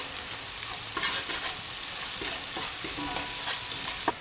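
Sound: garlic browning with salt in a pan

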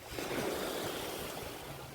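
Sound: strong wind by the sea while fishing

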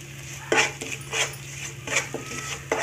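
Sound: roasting masala in a pan for sabudana vada

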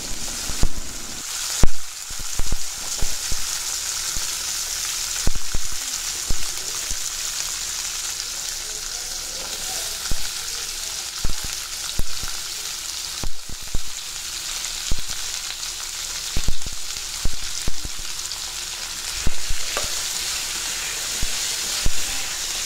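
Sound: onion and garlic sautéing in oil in a pan

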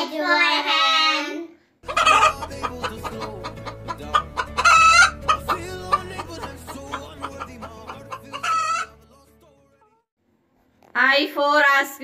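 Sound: hen clucking

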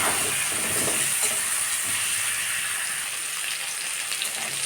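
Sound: bottle gourd frying in oil with salt and turmeric

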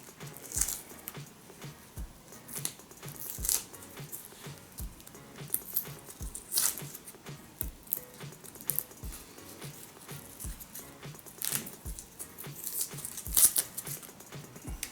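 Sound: cleaning salted fish by hand

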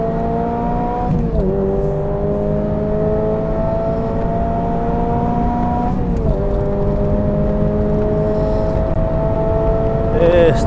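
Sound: HKS supercharged Toyota GR86 accelerating on race circuit

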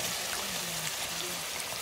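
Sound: adding salt cod to cooking pot on wood stove

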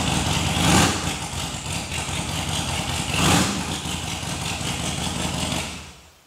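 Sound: Harley-Davidson Sportster 48 motorcycle engine started and idling

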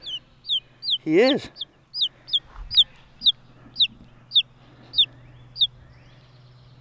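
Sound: chicken chirping and clucking

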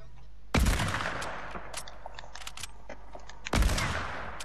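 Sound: hunting rifle gunshots in Fortnite video game

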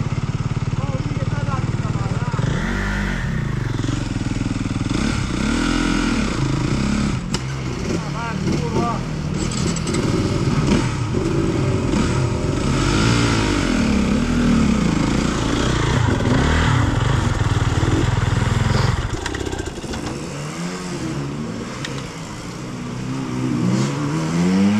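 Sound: enduro motorcycles riding

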